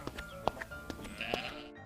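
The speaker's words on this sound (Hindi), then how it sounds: "इतना कहकर गंगाराम अपनी बकरियों को लेकर उन्हें चराने चला गया।" Goats bleating in a rural village setting, several short nasal calls spaced irregularly over a faint background, moderately near.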